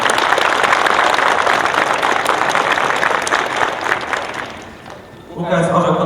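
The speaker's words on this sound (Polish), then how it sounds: "Wielkie brawa." Sustained applause from a crowd at the opening ceremony of a youth football tournament, steady and dense for about five seconds, fading briefly before a voice begins speaking.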